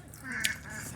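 A duck gives a single sharp, nasal quack close by, with low voices murmuring faintly in the background.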